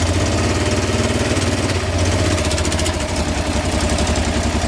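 A Honda 600 Transalp motorcycle engine runs loud and close at a steady idle, with a rhythmic low thrum and constant mechanical rattle throughout.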